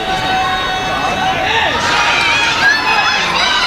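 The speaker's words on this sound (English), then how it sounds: "the crowd is cheering for her" Crowd noise at a ninja obstacle competition, the 2024 World Ninja League Championships, as a young female athlete clears the last obstacle; steady loud cheering and chatter fill the whole stretch, with voices and whistles rising near the end.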